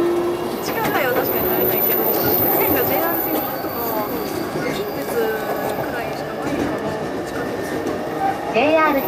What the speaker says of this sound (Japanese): この電車は京浜東北線、開業線、大宮行きです。